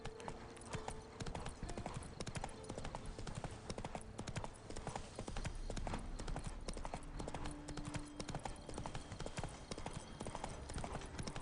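Horse hooves clip-clop in a steady trotting rhythm throughout a video game ride, close and continuous, with faint background sounds.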